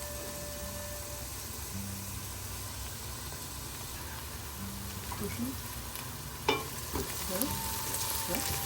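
Chopped green chillies and golden onions fry for a chicken bharta, a low steady sizzle with a few sharp spoon clinks and stirring scrapes toward the end.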